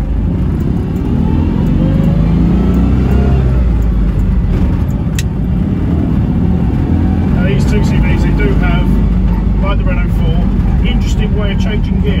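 Citroen 2CV engine revving and pulling in second gear while driving, a continuous loud low drone heard from inside the car, with someone talking over it throughout.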